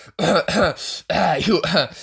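A voice gives a few short, forced throat-clearing coughs in quick succession, close up and loud, sounding deliberate rather than genuine.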